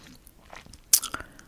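Gum being chewed during a whispered question-and-answer session, heard as a few close, wet crunchy bites and smacks after a quiet stretch, with faint whispering nearby.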